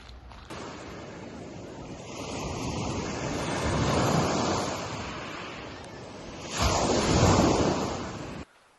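Surf rolling onto the Black Sand Beach at Silver Bay, Minnesota, a shore of black rock, with a steady broadband wash that swells in the middle and surges loudest near the end, wind rumbling in the background.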